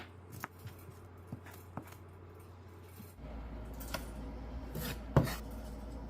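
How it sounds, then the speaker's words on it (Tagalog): Banana heart being sliced thinly with a knife for Ilocano dinengdeng, giving a few sharp, close taps of blade on board, spaced irregularly, with one louder cut near the end over a low background hum. "Ang parteng ito ay hiniwa ko lang ng manipis."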